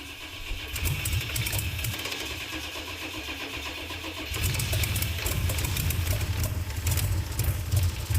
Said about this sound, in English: The time has come, we managed to start the car